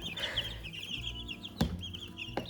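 Young chicks, one with a slightly cracked voice, cluck and peep close by in short, high chirps, with a couple of sharp knocks or taps breaking in.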